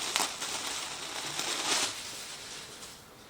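Plastic packaging around a two-pack of kids' seatbelt covers is cut open and handled, giving close, faint crinkling and rustling that fades toward the end.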